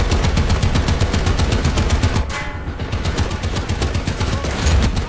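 Rapid, loud automatic gunfire rattling steadily in a tank video game with American and British tanks, a dense burst of shots that briefly drops out midway before resuming.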